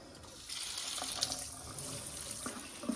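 A kitchen sink faucet sprays water in a steady, hissing stream over salted cucumber pickles being rinsed in a bowl, close and continuous with some splashing bursts.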